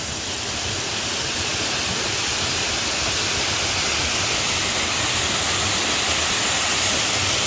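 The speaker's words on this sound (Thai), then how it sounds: "นี่ก็จะเป็นอีกน้ำตกหนึ่งที่ไหลลงสู่แม่น้ำโขงนะครับ" A waterfall pours steadily down toward the Mekong River in Ubon Ratchathani, Thailand, a dense, unbroken roar of rushing water that stays loud and even from start to finish with no voices.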